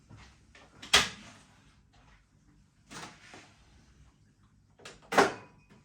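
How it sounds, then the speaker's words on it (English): Three separate thuds and clacks as the doors of a Philips Perfect Draft home beer dispensing machine are opened, each a short sharp knock with quiet handling noise in between. "Open your doors on your machine."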